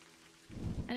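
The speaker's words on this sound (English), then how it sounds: "We have thunder." Rain patters steadily in the game A Highland Song, then a deep rumble of thunder rolls in loud and close, swelling into a heavy, sustained growl over the downpour.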